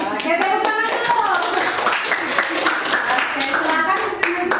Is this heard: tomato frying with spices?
no